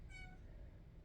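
A sad pet cat gives one faint, short meow in the background, heard over a low steady hum with no one talking.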